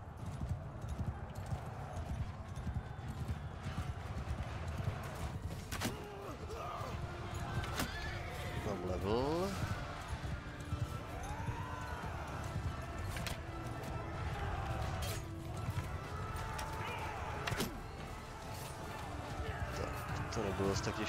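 Hooves clip-clop in a steady gallop with occasional whinnies from a horse in the Mount & Blade video game, mixed with battle noise and someone talking over it throughout.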